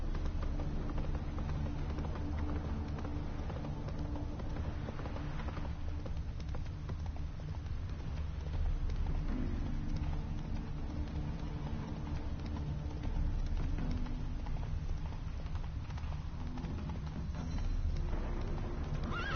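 Horse hooves clip-clop steadily at a gallop through most of the stretch, with occasional neighs and whinnies, from the game The Witcher 3 over a continuous low backdrop of game ambience and music.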